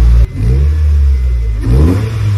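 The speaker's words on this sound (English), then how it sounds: "For number 4, I have listed my HKS high power exhaust." A 2007–2008 Honda Fit GD3 engine revving through an HKS high power exhaust, loud and close, with two throttle blips rising over a deep idle rumble.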